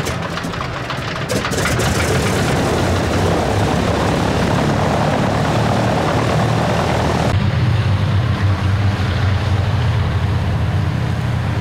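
Antonov An-2 biplane's piston radial engine and propeller running loud and close for rescuers' parachute jumps, a dense steady roar that shifts to a lower, smoother drone partway through, with no voices.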